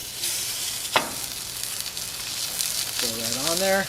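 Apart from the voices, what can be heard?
steak searing in a hot pan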